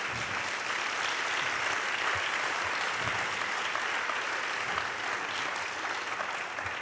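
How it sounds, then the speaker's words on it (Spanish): A seated audience at a literary festival gives a dense, even round of applause in a hall. The clapping is sustained and fairly loud from start to finish with no talk over it. "te vamos a dar un aplauso"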